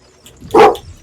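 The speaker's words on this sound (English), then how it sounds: "I think the dog needs to go out." A dog gives one short, loud bark close by, standing out against near silence.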